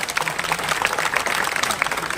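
A crowd at a political rally near Mumbra station applauds, a dense, steady wash of many hands clapping that holds at even loudness throughout the short burst, with no clear speech over it.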